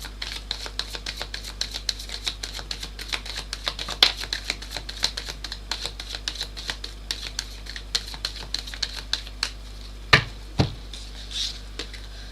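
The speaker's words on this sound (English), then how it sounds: "I want one more shuffle." Rapid, dense clicking and flicking of tarot cards being shuffled at close range, a steady papery patter with a couple of sharper snaps near the end.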